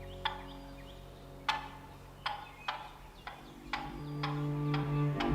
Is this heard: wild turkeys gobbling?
yes